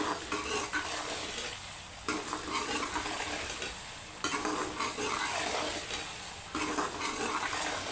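Okra and onions with salt stirring in a hot pan, a steady close sizzle under repeated scraping sweeps of a spoon against the metal, with brief louder scrapes every couple of seconds.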